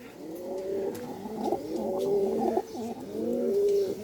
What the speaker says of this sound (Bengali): অনেক সুন্দর একটা কবুতর আর কি